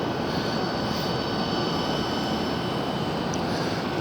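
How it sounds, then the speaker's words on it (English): A Delta jet at Philadelphia airport gives off a loud, steady engine roar and whine that holds evenly across the whole stretch, with a faint high tone riding above it. "This Delta Jet."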